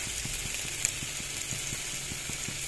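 Bitter gourd and small fish sizzle steadily in a pan as salt and turmeric are stirred in, a low continuous frying hiss with faint regular scraping ticks from the spoon.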